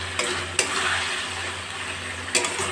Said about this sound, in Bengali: টকবক করে 2 মিনিট ফুটে গেলেই আমার সয়াবিন পোস্ত রেডি হয়ে যাবে।